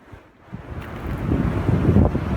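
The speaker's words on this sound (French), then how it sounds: "C'est une belle bourrasque." A strong gust of wind buffets the microphone outdoors, a deep roaring rumble that swells from quiet to loud over a couple of seconds and stays heavy.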